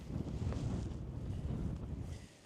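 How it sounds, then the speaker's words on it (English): Wind picking up on a hillside trail between Catbells and Brunt Crag in the Lake District, a low, steady buffeting rumble across the microphone that eases off at the end. "There's a little bit of wind picking up now"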